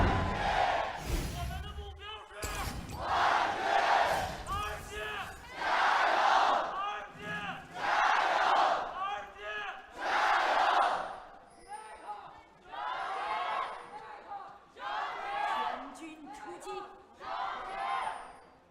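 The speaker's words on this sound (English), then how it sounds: "Now it's time to hear from the crowd, and if the RNG fans have still got the support" A large esports arena crowd of RNG fans cheers at an LPL League of Legends match, with loud chanting roars rising and falling in rhythmic waves and brief pauses between surges.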